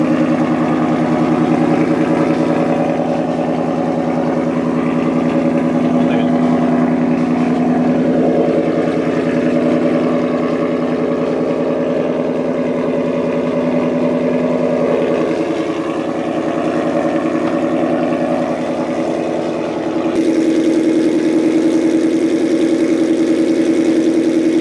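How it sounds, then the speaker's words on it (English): A Ford Aluminator engine in a build car runs on the dyno for tuning pulls, giving a loud, steady, close engine drone that holds a sustained pitch with slight swells. No one speaks. "rev it to 7500 RPM"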